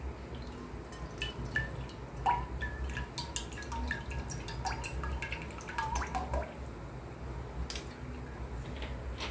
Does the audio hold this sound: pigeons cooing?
no